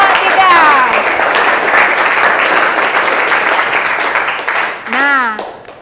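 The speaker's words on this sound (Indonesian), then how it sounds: "beri tepuk tangan kepada kelompok" Classroom of students applauding group 3 after their presentation during a guidance lesson on healthy teen socializing, a dense run of clapping with voices calling out briefly at the start and near the end.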